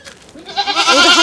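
A goat on a farm gives a single close, wavering bleat that swells over about a second, with no voices around it.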